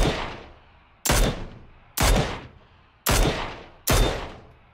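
Gunfire in PUBG, a battle royale shooter: five loud, booming single shots at roughly one-second intervals, each with a sharp crack and long decaying echo, alone without talk.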